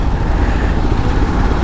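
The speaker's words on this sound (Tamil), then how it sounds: "திரும்பவும் டிராஃபிக் தான்" Dense road traffic surrounds a rider on an Xpulse 200 motorcycle, a loud, continuous roar of engines and tyres with no break or distinct passing vehicle.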